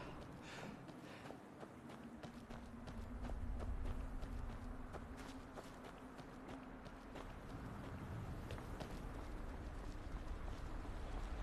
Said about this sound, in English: Oh, hello, horsey.